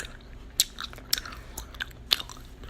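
Gum being chewed close to the microphone in an ASMR setting, with soft, moist smacks and sharp little clicks at irregular intervals over a low, quiet background.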